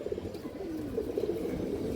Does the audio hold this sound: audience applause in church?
no